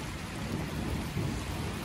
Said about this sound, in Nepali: सेतै पानी परिरहेको छ